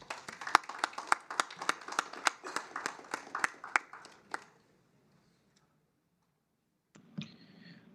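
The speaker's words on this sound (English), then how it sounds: "help me in welcoming him to the virtual stage with a round of applause" Brief round of applause welcoming a speaker at a virtual talent summit: a quick run of sharp, evenly spaced claps that fades out after about four seconds, followed by silence and a short noisy thump near the end.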